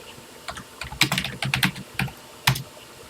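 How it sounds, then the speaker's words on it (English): Typing on a TI-99/4A computer keyboard, a quick irregular run of close, crisp key clicks with short pauses between bursts, no talking. "a bit more typing to do here"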